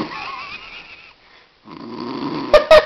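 A person snores in a few rough, rasping breaths with a brief quiet gap, followed by two short bursts of noise close to the microphone.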